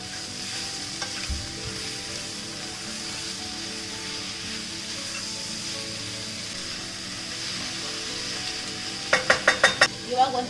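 Tomatoes and previously fried okra sizzle steadily in a frying pan, with soft stirring scrapes throughout and a quick run of sharper spoon clinks against the pan near the end.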